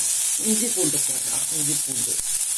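Ginger and garlic frying in hot oil with curry leaves give off a steady, loud sizzle throughout, with a voice speaking over it.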